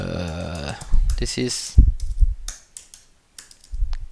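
Quick bursts of computer keyboard typing while writing a test message, close and fairly loud, interleaved with someone talking over the keystrokes.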